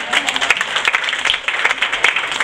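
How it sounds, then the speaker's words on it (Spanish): Church congregation applauding the Lord during a sermon, a steady dense wash of many hands clapping, fairly loud and unbroken. "Dale ese aplauso al Señor."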